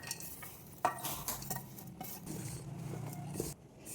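Puttu flour and maida being mixed together in a bowl, with a sharp clink of a utensil followed by soft, continuous scraping and stirring sounds at close range.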